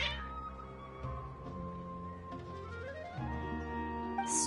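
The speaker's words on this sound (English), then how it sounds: "Your cats seem pretty worked up." Several cats meow repeatedly in Genshin Impact, overlapping agitated cries with long drawn-out tones, close and fairly loud over a soft musical background.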